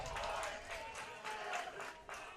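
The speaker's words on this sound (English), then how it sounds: "Draws a big applause and barbaric cheers from the Wareham dugout" Players in the Wareham Gatemen dugout applaud and cheer during a baseball game against the Cotuit Kettleers, a continuous, somewhat distant wash of clapping and shouting with a voice talking over it.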